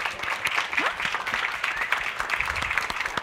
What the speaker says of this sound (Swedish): en varm applåd för min fantastiska panel